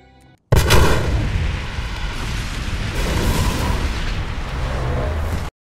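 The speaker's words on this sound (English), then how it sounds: "Especially in this scene where he makes a hospital go kablooey." A hospital explosion from The Dark Knight film: a sudden loud blast after a brief quiet moment, then a sustained roaring rumble of debris and fire that fills the rest of the scene.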